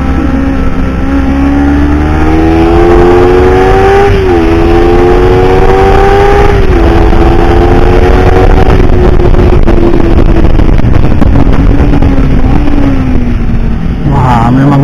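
A loud race motorcycle engine screams continuously at high revs on the Mijen circuit, its pitch rising and dipping as it shifts gears, close and dominating throughout.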